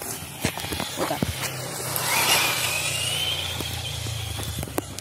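A car drifts across a lawn, its engine rising into a whining rev that sweeps upward and then holds, with scattered thumps and clicks around it, fairly close.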